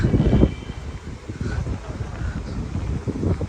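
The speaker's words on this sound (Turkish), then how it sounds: "Rüzgarlı burası" Gusty wind buffets the microphone in low rumbling bursts, steady throughout with a few stronger gusts near the start and end.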